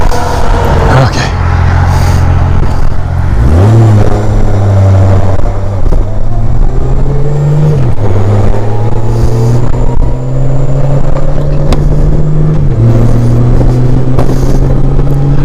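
Honda Goldwing motorcycle engine with a Civic-like motor, loud and close, rising and falling through several revs over a steady idle, with a faint voice briefly in the mix.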